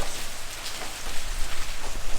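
Heavy monsoon-like rain pours down in a storm beside a highway, a dense, loud, steady hiss of downpour drumming on surfaces with no voices.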